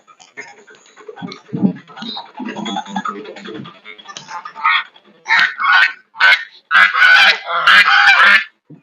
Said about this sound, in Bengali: এখানে হাসা আছে যারা নাকি দুষ্টামি করতেছে এখন মাসাল অনেক সুন্দর হাঁস